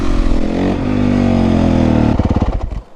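A motorcycle engine roars loud and close as the rider holds a steady rev through a wheelie, then the note breaks into choppy, pulsing bursts as the throttle is blipped.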